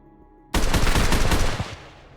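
A sudden burst of rapid gunfire, loud and dense, rattling for about a second before fading out.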